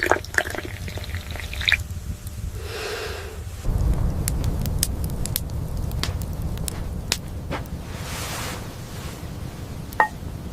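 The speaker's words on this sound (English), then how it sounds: "As the milk boils, she pours it into cups and enjoys it quietly." Freshly boiled milk is poured into cups in a cold Siberian home, a soft liquid stream with small drips and the clink of crockery heard near and fairly quiet over a low background rumble.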